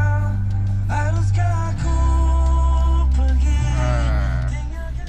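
Music from the aftermarket GVC head unit in a 2016 Honda HR-V, a song with sung melody over sustained bass notes, playing clearly and steadily inside the car with no talking over it.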